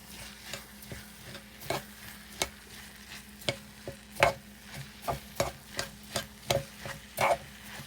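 A spoon scrapes and knocks through basmati rice with pigeon peas in a pot, a steady rhythm of close strokes about twice a second with a faint sizzle underneath.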